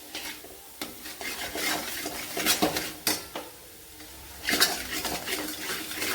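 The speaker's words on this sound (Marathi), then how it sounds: "मसाला टाकल्यानंतर चांगलं परतून घ्यायचं" Ambari masala being stir-fried in a pan for dabuvada bhaji, with repeated metal spoon scrapes and clinks against the pan over a faint background, and no talking.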